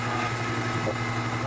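An electric meat grinder with two plates runs steadily on a finer plate, grinding sausage meat for jalapeño cheddar summer sausage, a continuous motor hum with no talk.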